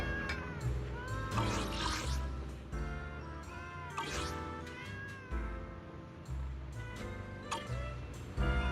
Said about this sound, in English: These cats are meowing up a storm.